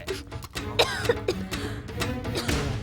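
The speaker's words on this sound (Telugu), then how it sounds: "దగ్గు వినిపించింది" In a scene from the Telugu comedy film Andagadu, someone gives a few short, close coughs and clears their throat over a low background murmur.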